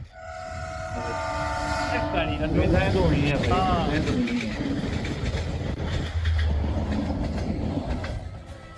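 A passenger train in Kashmir sounds its horn with sustained tones, then rumbles along the rails with clattering wheels, loud and close, while a voice talks over it.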